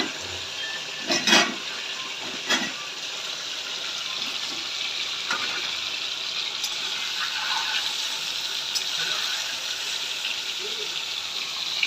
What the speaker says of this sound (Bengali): আচ্ছা, মাংস তেলে ছেড়ে দিয়েছি।